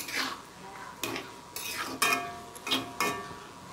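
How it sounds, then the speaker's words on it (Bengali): Lentils and potatoes are stirred in a pot with a metal spoon, producing a series of five or six distinct scraping and clinking strokes over a faint cooking hiss, no voices. "দিয়ে নাড়াচাড়া করে এটা মিনিট 5 ভালোভাবে ঢাকা দিয়ে দেব।"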